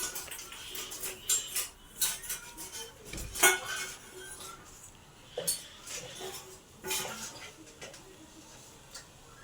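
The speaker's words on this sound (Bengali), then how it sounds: "তো বন্ধুরা, এই যে আমি দুধটা এরকম করে লাড়বো।" A spoon clinks and scrapes against a pot while milk is stirred on the stove for making sweet curd, with irregular close metallic taps and clatters throughout.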